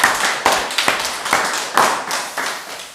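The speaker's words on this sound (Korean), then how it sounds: "우리 함께 주님 앞에 뜨겁게 박수로 환호하게 할렐루야 영광 드리겠습니다" Church congregation clapping together, a series of sharp, close hand claps at a steady rhythm with a slight reverberant tail, loud and clear with almost no voices over it.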